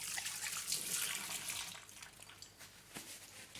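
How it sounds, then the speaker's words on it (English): Hands washed under a running kitchen tap while cooking sizzling beef with black bean sauce: a steady, close hiss of flowing water with some splashing changes, continuous throughout and with no talking. "wash your hands."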